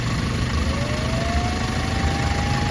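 A Hyundai Starex VGT turbo diesel engine runs steadily at close range with a continuous mechanical hum, a rising turbo whine climbing gradually over a few seconds, no voices.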